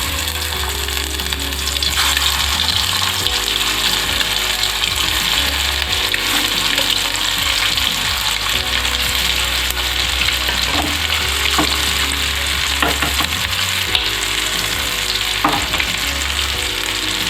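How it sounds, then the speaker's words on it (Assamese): Boiled eggs shallow frying in hot oil in a pan, a dense continuous sizzle close and loud throughout, with occasional scrapes and taps of a utensil stirring. "এতিয়া বইলকেইটা চেলো ফ্ৰাই কৰি ল'ম"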